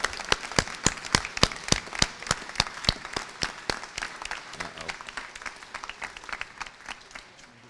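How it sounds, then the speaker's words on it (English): Audience applause at a university graduation ceremony for hospitality program graduates, sharp distinct claps strong at first, then thinning and fading over several seconds. "Please join me in applauding these very fine scholars from Canada's leading hospitality program."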